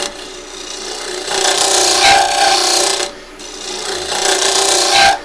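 Negative rake scraper cutting the inside of a wooden yarn bowl on a lathe, a bright rasping scrape in two long passes separated by a brief pause, close and loud with no talk.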